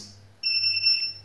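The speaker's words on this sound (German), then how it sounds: "der piepst, der hier" Electronic unit from a homemade honey bottling machine lets out a steady high-pitched beep that starts abruptly and holds for almost a second, close and clear, over a low background hum.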